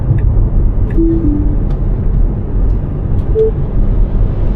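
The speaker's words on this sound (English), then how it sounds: "see the truck going by?" Truck driving past on a 45 mph road, heard from inside a car as a broad, steady rumble and whoosh of road noise that stays loud throughout.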